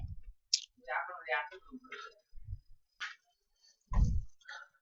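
A computer mouse clicks a few times while a Google Docs file menu is used, with short, crisp clicks spread among a person talking.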